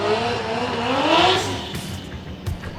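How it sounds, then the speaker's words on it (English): A Formula Drift car at Palm Beach brakes hard coming down the front straight into drift initiation, its engine note falling and tires scrubbing, loud and close, with a few sharp knocks near the end. "Watch the heavy braking right here."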